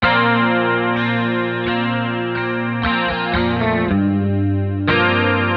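Electric guitar with chorus and distortion strumming a song's intro chord with a subtle added note, several ringing chord attacks sustaining loudly, unaccompanied and without talking.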